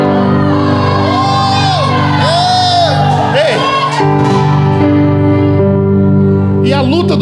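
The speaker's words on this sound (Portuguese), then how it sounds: "Grita, grita, igreja, grita." Church congregation at a worship service shouting together in a loud, sustained roar of voices, with whoops and yells rising over steady music throughout.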